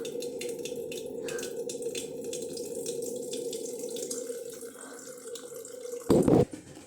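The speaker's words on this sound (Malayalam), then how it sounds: "അങ്ങനെ നമ്മൾ ഇതിലേക്ക് വെള്ളം നിറച്ചിട്ടുണ്ട്" Steady rush of tap water pouring into a pot, continuous for several seconds, ending with a brief louder splash and clatter.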